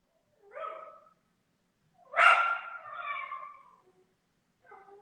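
A pet dog gives a few faint, scattered barks and yips, a short one followed by a longer pair and a brief final yelp, with quiet gaps between.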